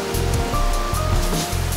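Musical dancing water fountain in Dubai sending up steady rushing, splashing water with a continuous loud wash, music tones faintly audible beneath the spray.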